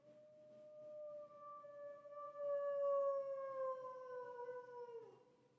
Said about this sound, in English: It's the howl of an animal, a shrill like that of a wild dog.